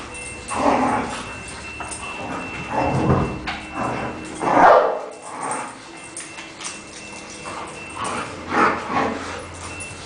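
Several dogs at a dog daycare bark and yip in bursts over about ten seconds, with whimpers mixed in and a continuous busy background of the kennel space.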